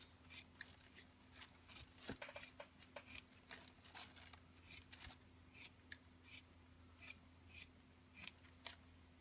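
Repeated snips of dull scissors, irregular and fairly close, with a crunchy, labored sound of blades chewing through material while making tawashi scrubbers; steady low hum underneath.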